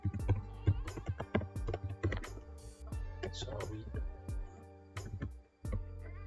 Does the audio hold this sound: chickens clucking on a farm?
no